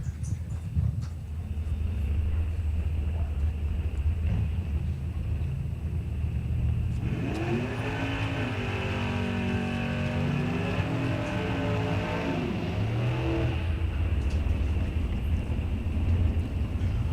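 Drag race cars in a Pro ET round, one an 87 Firebird, rev and accelerate down the strip, a rising engine howl swelling midway over a constant rumble.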